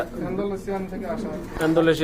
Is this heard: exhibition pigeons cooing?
yes